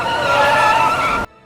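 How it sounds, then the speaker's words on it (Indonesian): A car tire blows out during a drive in the 2017 film Downrange, loud harsh skidding and screeching rubber lasting over a second before cutting off abruptly into near silence. "ban mobil mereka pecah secara tiba-tiba"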